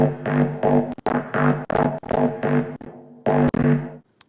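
A Reese bass synth patch in Reason plays without its mid EQ cut, thick detuned tones sounding as a series of sustained notes with short gaps, loud and alone.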